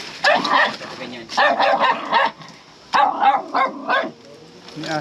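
A dog barks and yips in several short bursts, near and fairly loud, while people talk in the background.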